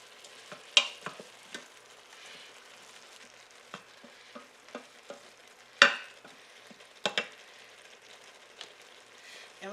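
Tri-colored bell peppers sautéing in a pan for a stuffed pepper casserole, a soft steady sizzle broken by scattered clinks and scrapes of stirring, one sharper knock partway through, with no talking.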